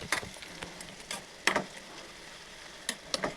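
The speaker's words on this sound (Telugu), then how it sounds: "ఇది గోల్డ్ కలర్ వచ్చేదాకా వేయించుకోవాలి" Bitter gourd (kakarakaya) frying in a pan, a faint soft sizzle under scattered sharp scrapes and clicks of stirring, quiet and close with no talking.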